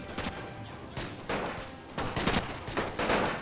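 Rifle and machine-gun fire in a World War I battle within a strategy video game, overlapping bursts of shots and rattling volleys in a dense, continuous firefight.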